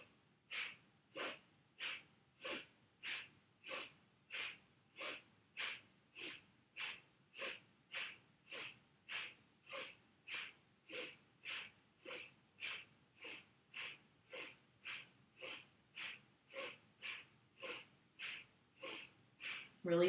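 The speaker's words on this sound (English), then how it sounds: "Think about inflating the belly and then pushing the breath out, drawing your navel back." Forceful breath-of-fire exercise: about thirty sharp, rhythmic exhalations pushed out through the nose at a steady, fast pace, close and clear, ending with a deeper breath.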